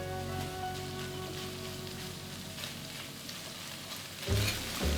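Roasted vegetables in a pot with bay leaves and tomato paste, giving a constant close sizzle and frying crackle over low heat, with a couple of louder bumps near the end.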